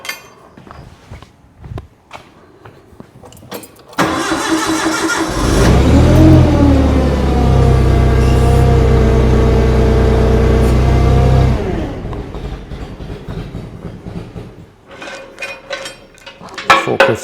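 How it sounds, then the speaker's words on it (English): A forklift engine starts with a clatter and runs at a loud, steady idle, then revs before dropping away, with scattered clanks of work on a locomotive smokebox before and after. "Forklift's going to keep stopping until I get this in place."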